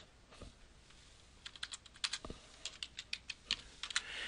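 Keys on a computer keyboard are tapped in a short irregular burst of light clicks, close and faint in a quiet room.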